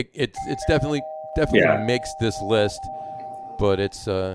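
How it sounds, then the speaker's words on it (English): A doorbell rings once with a sustained two-tone chime that hangs for a few seconds while people keep talking over it. "That's my doorbell."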